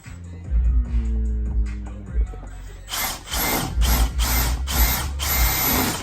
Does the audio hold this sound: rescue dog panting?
no